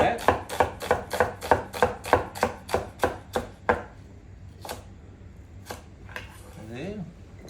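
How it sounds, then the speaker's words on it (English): A knife slices red onion on a board in a steady run of about a dozen crisp, evenly spaced cuts, then a few slower scattered ones, close up, with a voice speaking briefly near the end. "Okay, red onion, we'll just do some slices of that."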